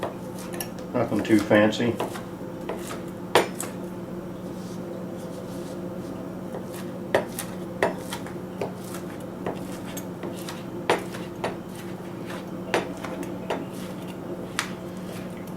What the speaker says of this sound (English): let's get our salmon ready. We're just going to chop this up